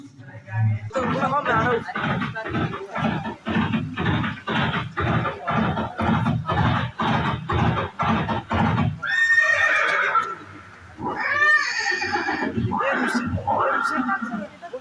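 In a museum audio-visual show about Maharana Pratap and his horse Chetak, a horse neighs and whinnies loudly amid rhythmic clip-clop of hooves, followed by repeated whinnying calls.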